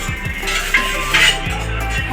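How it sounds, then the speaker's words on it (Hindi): Dishes, pots and utensils are washed by hand, with steady clinks and scrapes of metal over a continuous background of running water and household noise, close by. "हमारी दीदी इधर बर्तन धो रही है"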